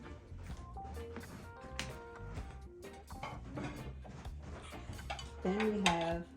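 Heavy Gibson dinner plates clink and clatter in a steady series of light knocks as a table is set, fairly faint and close, with no talk.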